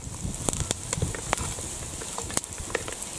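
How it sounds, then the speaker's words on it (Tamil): Onions and curry leaves sauté in a pan for quail gravy, giving a soft continuous sizzle broken by scattered crackles and pops, fairly faint and close. "வெங்காயத்து கூடவே கருவேப்பிலை சேர்த்துக்கலாம் வெங்காயம் வந்து நல்லா வதங்கட்டும்"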